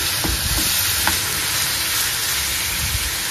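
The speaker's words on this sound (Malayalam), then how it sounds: "ഇട്ട് ഒരുപാടങ്ങ് ഫ്രൈ ആക്കണ്ട, ഒന്ന് വഴറ്റിയിട്ട് നമുക്കെടുക്കാം" Boneless chicken sautéing in a hot pan for a savoury tea-time snack, a steady broadband sizzle with a few soft stirring scrapes, close and constant throughout.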